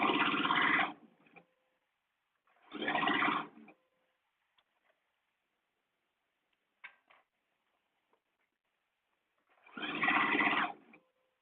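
Sewing machine sewing a blouse sleeve, running in three short separate bursts, each under a second, with near silence and faint clicks between them.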